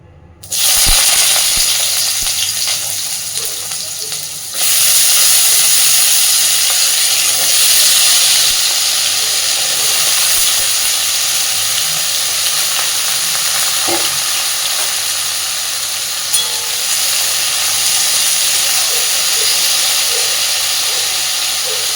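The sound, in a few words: cut potatoes and eggplant frying in hot oil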